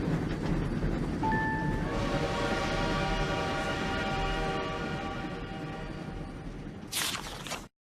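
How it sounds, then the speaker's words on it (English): A toy train arriving at a station, a steady rumbling rattle with brief tonal whistle-like notes, the sound gradually fading before a short sharp burst near the end and an abrupt cutoff; no talking. "Princess Celestia watches the train arrive at the station"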